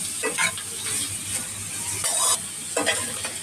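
Sliced bitter gourd and onion sauté in a hot pan, giving a steady sizzle broken by short scraping bursts as the spatula stirs them around.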